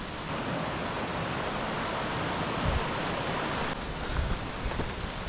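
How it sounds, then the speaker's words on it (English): Waterfalls in Dollar Glen rush in a continuous, broad roar of falling water, steady and close, with no voices present. "the waterfalls."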